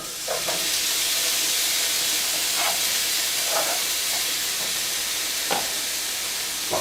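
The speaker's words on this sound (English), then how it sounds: "So we're going to put this meat inside this nice skillet here" Beef chunks for stroganoff sizzle in a skillet, a loud, steady frying hiss throughout with occasional soft pops and stirring sounds.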